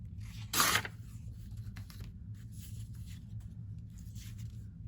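Paper is cut for a collage with one short, crisp snip or rip near the start, followed by faint rustling against a low background hum.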